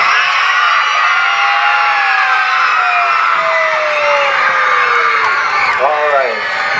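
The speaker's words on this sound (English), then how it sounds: "I'm going to count to 3, and if you are a little giant, I want you to scream." Crowd of elementary school children screaming together at a groundbreaking ceremony, a loud sustained roar of high voices and yells lasting several seconds without a break.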